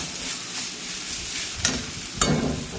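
Green chillies, ginger and curry leaves sauté in hot oil with mustard seeds, urad dal and dried red chillies for rava upma, giving a soft steady sizzle with two brief louder spatter bursts near the end.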